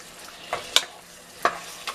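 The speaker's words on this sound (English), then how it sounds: "Stir a little bit." Jollof rice being stirred in a frying pot, with a few brief spoon scrapes and soft sizzling over a quiet kitchen background, no talking.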